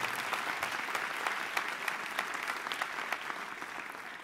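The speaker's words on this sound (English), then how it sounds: "So please give them a warm round of applause." Audience at Howard University's 2023 Charter Day Convocation applauds steadily, a dense, even wash of many hands clapping that holds throughout at a moderate level.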